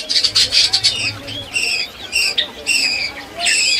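Lovebirds at a Kolkata bird market give sharp, repeated high chirps and squawks in bursts, close and fairly loud over a low hubbub of market noise and voices.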